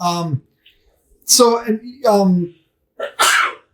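A single sharp sneeze bursts out between stretches of conversation, loud and close.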